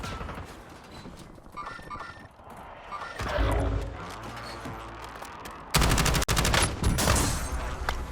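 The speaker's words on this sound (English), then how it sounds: "Putting down suppressive fire so that the weak teammate can get away." Suppressive gunfire in the shooter Warzone, rapid automatic bursts growing louder and denser toward the end, with game effects throughout.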